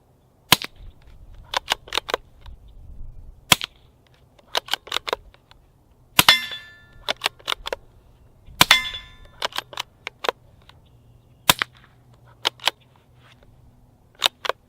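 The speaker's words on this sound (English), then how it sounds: "And here we have it in the shortened configuration with subsonic ammo." Suppressed rifle shots through an AAC Halcyon modular silencer in its shortened configuration with subsonic ammunition, outdoors: about a dozen sharp, close cracks at irregular intervals, a couple followed by a short metallic ring, with no talking.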